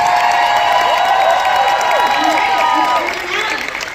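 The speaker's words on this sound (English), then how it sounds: "Can you get a big applause going for the Full House cast?" A convention crowd applauding and cheering for the Full House cast at a 90s con panel, loud dense clapping with shouts and whoops, fading slightly toward the end.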